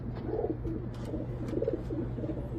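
Racing pigeons in a family loft coo softly and steadily, several low throaty calls overlapping at close range over a faint background hum.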